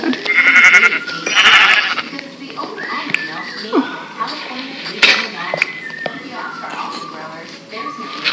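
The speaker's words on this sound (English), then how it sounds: "Murdering a horse. Oh my gosh, I hate the way they scream." Horse in Minecraft screaming as it is killed, sharp squealing cries amid clattering game effects while players talk throughout.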